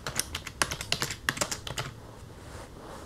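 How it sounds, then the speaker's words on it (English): Text being typed on a computer keyboard, a quick run of crisp, close keystrokes in uneven bursts that trail off into quiet near the end. "Type in some text."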